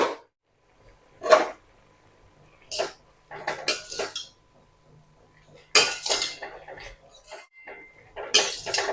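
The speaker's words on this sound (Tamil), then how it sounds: "மூடிட்டு ஒரு 2 தடவை கிளறிக்கலாம்." A metal spoon stirring beans fry in a cooking pan, with a series of separate scraping and clinking strokes that come close and clear, broken by short quiet gaps.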